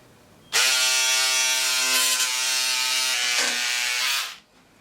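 Steady electric motor buzz with rich harmonics from an electric fabric cutter slicing cloth for a drape cowl kaftan dress, running continuously for about four seconds, close and loud, with a brief pitch dip near the end.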